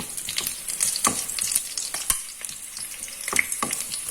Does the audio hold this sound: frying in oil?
yes